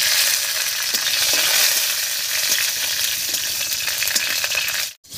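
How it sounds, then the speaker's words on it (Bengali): Slit green chillies fry in a wok with a loud, continuous sizzle and crackle, broken by a few light stirring clinks, before cutting out abruptly at the very end. "লঙ্কাগুলো হালকা ভাজা হয়ে গেছে,"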